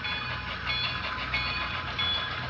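An HO scale B&O A2 Atlantic model train running on a layout makes a steady, close whir and rumble with faint metallic clicking, continuous throughout with no voices.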